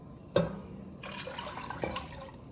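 Two cups of water splash into a cooking pot of beef birria for tacos, a soft clunk followed by a quiet, close, bubbling pour lasting a couple of seconds.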